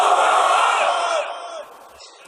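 A large crowd at an Islamic religious gathering shouts the takbir in unison, a loud, sustained chorus of many voices that swells and then fades away.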